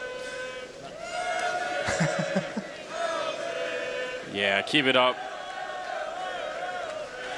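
A CS:GO Major crowd chants and cheers in the arena while casters talk over the noise. A burst of rhythmic shouting rises near the middle.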